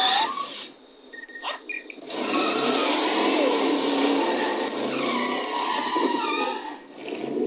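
A car's tyres skid and squeal while the engine revs hard for several seconds in a loud, continuous rushing roar that dips briefly near the start and end.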